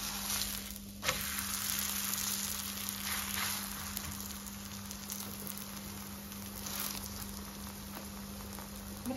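Rghaif flatbread sizzles steadily in a pan just after being flipped, a continuous close frying hiss with faint crackles and a light bump near the start, no voices.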